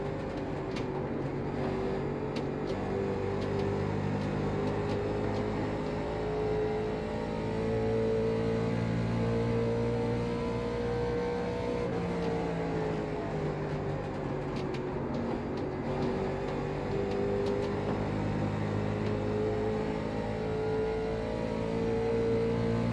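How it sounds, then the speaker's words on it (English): A late model race car in the iRacing game holds a steady, droning engine note as it slides into a corner, the pitch dipping briefly and then recovering, continuous and loud with no talking. "That's us just sliding into the corner."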